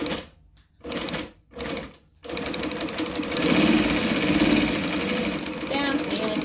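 Sewing machine stitching a fabric bag: a few short stop-start bursts, then a long steady run of rapid needle clatter, close and fairly loud.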